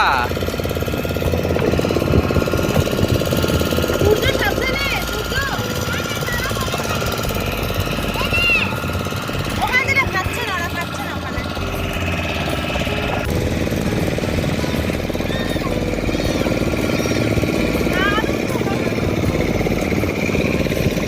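A loud, continuous motorboat engine drone with rattling chatter runs throughout on Chilika Lake, with faint voices and seagull cries over it.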